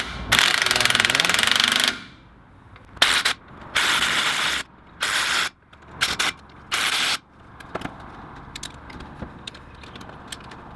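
A ratchet tightens 12 mm nuts on the front brakes of a Land Cruiser 80, starting with one long loud clicking run and followed by several short bursts, then quieter handling noises.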